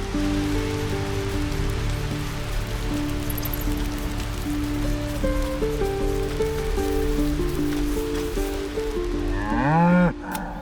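A cow in the video game Baldur's Gate 3 lets out a loud, close, drawn-out moo near the end, over a steady patter like falling rain and a low game soundscape.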